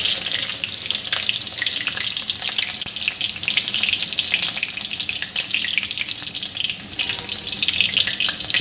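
Chopped green chilies fry in hot oil with tempered mustard seeds and cumin for a dhaba-style dal tadka, giving a steady, close, loud sizzle with fine crackling throughout and no voices.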